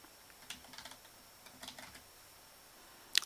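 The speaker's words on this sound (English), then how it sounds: "You need to type in the bucket name in a remote directory." Quick bursts of typing on a computer keyboard, soft clustered key clicks with brief pauses and one sharper tap at the end, close and alone without voices.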